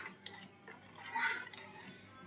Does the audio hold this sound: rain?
no